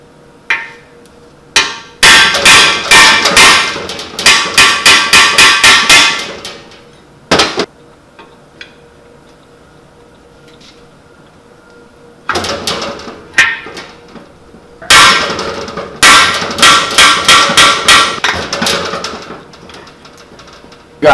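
A hammer knocks cup plugs out of a Ford 390 engine block in rapid, loud metallic strikes. The strikes come in two long bursts separated by a quiet stretch with a few isolated hits.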